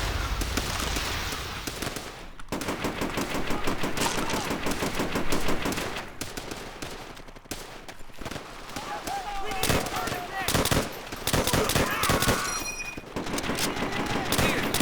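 Rapid automatic gunfire and scattered shots from Call of Duty: World at War on a custom Tokyo map, continuous dense bursts with brief lulls, loud throughout the whole stretch.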